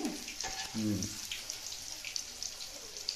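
Chicken for a pickle, a kilo of country chicken, frying in a pan with a fairly steady sizzle, brief low scraping and stirring noises early on, and no talking.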